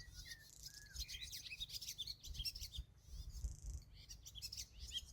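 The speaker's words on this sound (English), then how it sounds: "That's the swallows." Swallows twitter and chirp in quick, busy bursts, several birds calling at once over a low background rumble.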